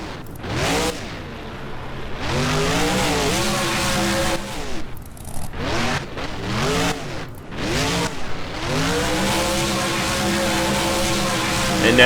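The monster truck Identity Theft spins a donut in BeamNG, its engine revving hard in repeated rising and falling surges with brief dropouts between them, loud and close throughout the twelve seconds.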